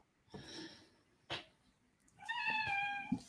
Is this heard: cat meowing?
yes